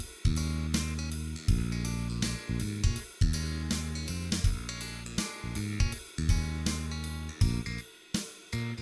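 Music with a scooped midrange, bass and treble intact but the middle hollowed out by an equalizer cut, playing steadily with rhythmic plucked or struck notes and no voices.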